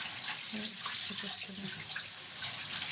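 Arugula and coriander are rinsed and soaked in a kitchen sink, with a steady hiss of running tap water and faint splashing throughout, close and fairly quiet, with no talking.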